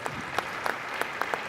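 A smattering of hand claps, sparse and moderately close, with a few distinct sharp claps over a light background hiss.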